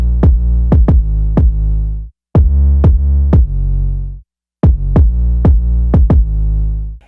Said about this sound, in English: bit crushing, which sounds like this